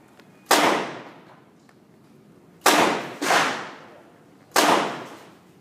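Four sharp gunshots from a snub-nose revolver fired in a concealed-carry drill, loud cracks with ringing decay, the first alone, then a quick pair, then a final shot.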